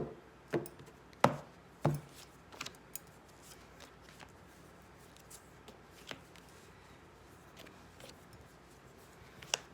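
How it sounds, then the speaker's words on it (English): Soft crisp riffling and tapping of tarot cards, in a few sharp bursts with quiet pauses between, close by in a still room. "All right, one more shuffle. And we'll cut the cards"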